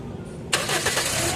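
A Toyota Altis engine cranks and catches, a sudden loud start that settles into a steady, rough idle with a broadband mechanical roar, close to the microphone.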